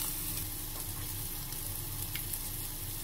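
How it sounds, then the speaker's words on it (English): Capsicum sizzles steadily in a pan, seasoned with salt and mixed herbs, a continuous close frying crackle with faint stirring scrapes and no talking. "I'll add salt in it and mixed herbs, and now just cook it just 2 minutes."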